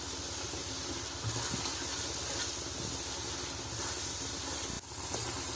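Masala of tomatoes and chilies roasts in a pan for dhaba-style chana dal, giving a continuous close hiss and sizzle with a brief dip near the end.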